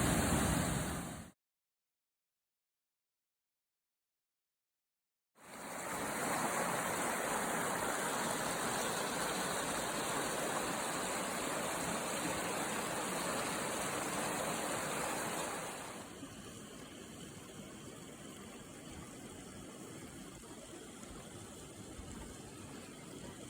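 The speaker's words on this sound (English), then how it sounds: "the strength and the force of this raging waterfall." Steady, roaring rush of Johnston Canyon's Lower Falls during a spring hike, heard close and loud after a short gap of silence, easing slightly in strength toward the end.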